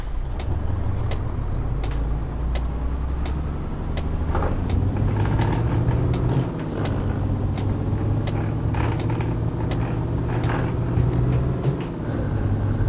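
A heavy truck engine in Euro Truck Simulator 2 rumbles steadily as the rig pulls away, a low drone that rises and shifts through gears, with occasional clicks and mechanical knocks over the continuous hum.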